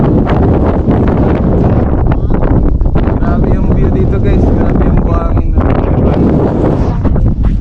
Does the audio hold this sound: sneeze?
no